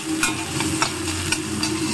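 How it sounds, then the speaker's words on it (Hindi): Chopped tomatoes sauté in two spoons of ghee in a pan, giving a close, continuous sizzle with a few soft stirring scrapes. "अब हम टमाटरों को सॉटे करेंगे"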